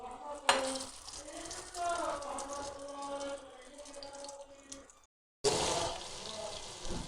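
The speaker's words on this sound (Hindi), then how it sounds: "ऑयल हमारा गर्म हो गया। अब इसमें जाएंगी शामियाँ।" Potato and chana dal shami kababs frying in hot oil over medium heat, a steady close sizzle with a sharp hiss as they go in, cut off briefly by a short silence, then the sizzle resumes loudly.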